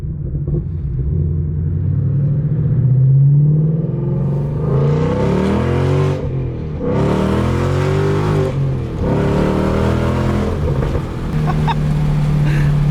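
A deep, loud Ford Mustang V8 exhaust with catalytic converters deleted rumbles and thumps continuously, swelling in bursts as the engine revs, with no talking.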